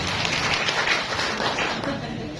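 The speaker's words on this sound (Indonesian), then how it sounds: "Tepuk tangan untuk Pak Abdul Fikri dan DKPN Provinsi Jawa Timur" Audience at a BKKBN village hall event in Bojonegoro, East Java, applauding steadily, a dense wash of clapping held at even loudness throughout with no break.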